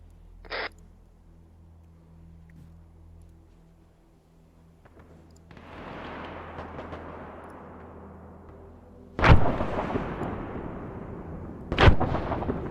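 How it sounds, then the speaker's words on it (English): Mortar rounds land in the Broken Assault video game: two loud, sharp blasts a few seconds apart, each trailing into a rumbling roll, over a low battlefield rumble with one earlier small crack. "Mortars land in the back of town."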